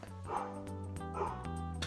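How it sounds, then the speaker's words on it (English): A dog barks and yips repeatedly in the background, its sharp sounds rising over constant music. "So the dog is still barking."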